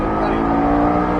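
A Porsche Cayman S at full throttle on a race track, its engine a loud, sustained droning roar heard from inside the car, with a voice talking over it.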